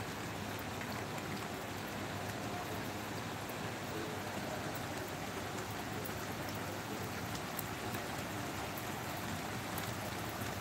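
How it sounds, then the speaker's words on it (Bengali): Heavy storm rain pouring down, a dense, loud, continuous wash of falling water with no breaks. "কি ঝড়ে বৃষ্টিটা এলো, সকাল থেকে মনে হয় এত জোরে বৃষ্টিটাই ফার্স্ট এলো বাবা"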